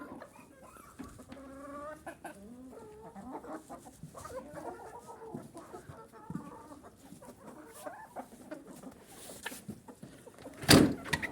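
Hens cluck and murmur steadily, close by, with a busy coop chorus and a sudden louder rustle near the end.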